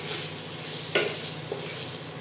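Boiled potatoes fry in a pan with a steady hiss, broken by a couple of brief scraping stirs, close and moderately quiet.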